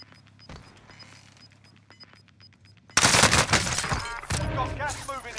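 Rapid suppressing gunfire erupts in a multiplayer shooter video game: a loud, dense automatic burst takes over partway through after a quieter stretch of faint clicks and game sounds, continuing to the end.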